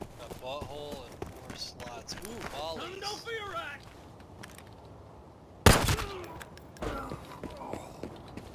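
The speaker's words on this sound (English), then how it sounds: "And those are suppressed shots." Suppressed gunshots in the Arena Breakout Infinite video game, one sharp muffled crack standing out after quieter footsteps, with people talking before and after it.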